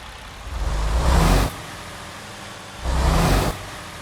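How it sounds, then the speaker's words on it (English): A Western Star semi truck engine in American Truck Simulator starts up, surging twice, roaring up for about a second each time, with a quieter idle rumbling in between. "let's go ahead and get this Western Star Power Hood started up"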